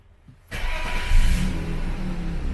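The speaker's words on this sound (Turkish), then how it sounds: "Frene basılı tutup butona bir kere bastığımızda da hemen çalışacaktır." A 2000 BMW E39 fires up via a keyless go button, a quiet moment broken by the engine catching with a sudden surge, a brief rev, then a steady close idle.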